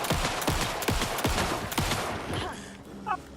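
Rifle gunfire in the video game Alan Wake 2, a rapid string of loud, close shots fired in bursts, fading to quieter game sounds near the end.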